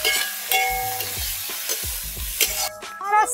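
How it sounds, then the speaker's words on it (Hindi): Chakod saag greens hit hot, reddened tempering in a pan, bursting into loud sizzling and frying with stirring clatter, close up and alone. "हमारा तड़का लगभग लाल हो गया है, अब साग इसमें जैसे डाल रही है"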